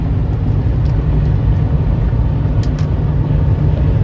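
A Ford 6.4 Powerstroke diesel farm truck drives along a road, heard from inside as a loud, continuous low rumble of engine and road noise with faint rattles and vibration throughout.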